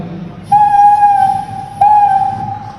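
A voice imitates a Vande Bharat train horn at a school arts festival mimicry competition: a loud sustained blast followed immediately by a second, slightly shorter one.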